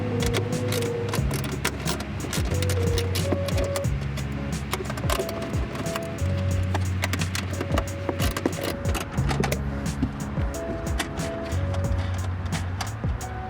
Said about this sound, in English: You're going to be using a 10mm socket and socket wrench to remove the 4 bolts holding that housing in place.